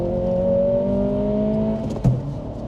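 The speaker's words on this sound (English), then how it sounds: "Not the best shift, but once you kind of get the turbo going" An Acura Integra A-Spec with a manual gearbox and a turbo launches hard. Its engine note climbs in one steady rise as the car pulls away, then a sharp blip and a brief dip mark a gear shift before it pulls again, loud and close.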